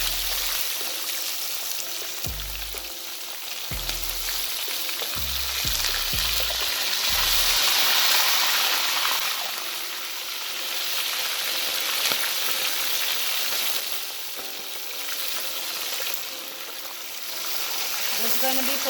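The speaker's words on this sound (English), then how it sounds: "So we'll be adding the fish now" Fish sizzle steadily in hot oil in a Jamaican-style Easter fry-up, a continuous close hiss of frying with scattered pops and a few clunks of a pan and utensil, while a voice talks over it.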